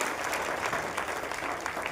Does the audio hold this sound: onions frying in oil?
no